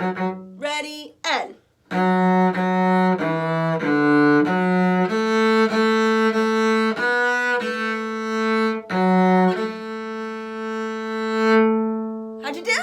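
A cello plays the first four measures of Little Liza Jane, sustained bowed notes in a steady, simple melody, clear and close, ending on a long held whole note; a brief spoken word comes just before the playing begins.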